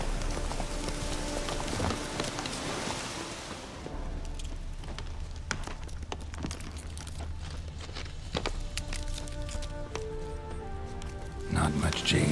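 Roach the horse gallops across open ground in The Witcher 3: Hearts of Stone, a steady rhythm of hoofbeats running under rain and ambient game sound for the whole stretch.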